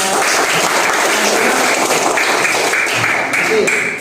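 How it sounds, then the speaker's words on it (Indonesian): A school class claps for a student group in loud, continuous applause that stays dense and even throughout, with faint voices mixed in and the clapping tapering at the very end. "tepuk tangan kelompok satu"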